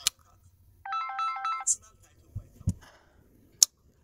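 A mobile phone ringtone plays a short melodic phrase in a quiet room, followed by scattered faint clicks and a muffled voice.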